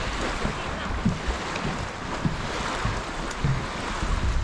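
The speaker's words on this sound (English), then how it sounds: "listen to the sound of the water over here" Water laps gently at the shore of Devil's Lake, a soft continuous wash with faint splashes, mixed with light wind noise.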